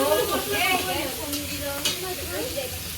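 Food being stirred and fried in a pan at an outdoor winter picnic, with a steady sizzle and scraping utensil strokes close by, while people chat in the background.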